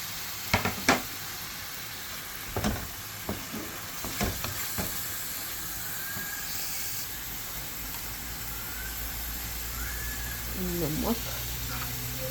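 Mixed vegetables sizzle in a pan with garlic and ginger, a steady moderate frying hiss broken by scattered clicks and stirring knocks, with someone speaking at times.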